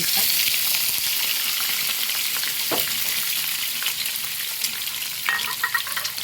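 Egg dropped into hot coconut oil in a pan, a loud continuous sizzle and crackle, with a brief stirring scrape and some clatter toward the end.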